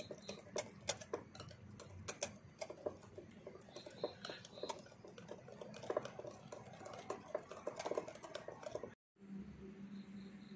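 Grated cheese is worked into a chicken reshmi kabab mixture by hand, producing a steady stream of soft, close, squelching clicks and taps that pause briefly near the end.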